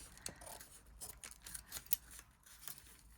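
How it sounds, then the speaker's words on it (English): Faint, close snips of scissors cutting paper, a series of soft crisp clicks at an uneven pace against quiet background. "Let's just go down with the scissors like that."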